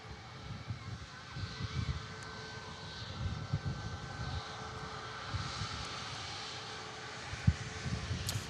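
Ryanair airliner rolling off the runway onto an exit taxiway at Manchester Airport, its steady engine rumble carrying at a moderate distance beneath a faint wind-like hiss.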